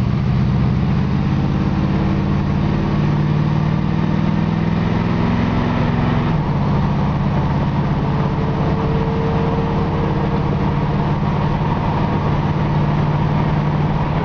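A 1972 Camaro engine drones steadily while the car drives straight down the road, a continuous low rumble with a slight shift in pitch midway and no voices.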